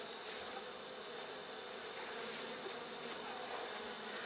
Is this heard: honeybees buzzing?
yes